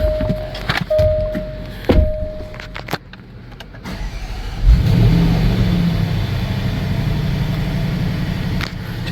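A 2016 Range Rover with an EVAP leak detection pump circuit fault cranks and fires after a few short clicks and whirs, then settles into a loud, steady engine run close by.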